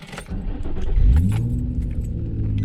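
An old car engine, just back after a blown ECU fuse was replaced, cranks and catches into a steady rumbling idle, following a brief jingle of keys near the start.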